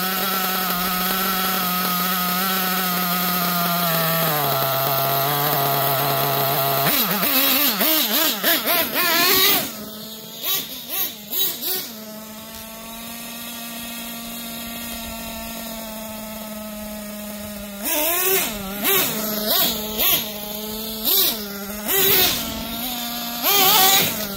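The small gas engine of a Losi LST XXL RC truck, freshly leaned out, buzzes at a steady idle, then rises into a long rev, settles back, and finishes with a string of sharp throttle blips, loud and close.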